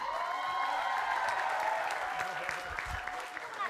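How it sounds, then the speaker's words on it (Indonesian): Audience applause at a comedy variety show, a steady wash of clapping filling the whole stretch at fairly close range, with a voice talking over it. "Ayo tepuk tangan dulu."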